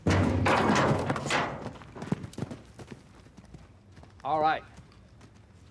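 A wild horse trots out of a pen, its hooves clip-clopping and thudding on the ground beneath steady talk and a loud whinny near the end.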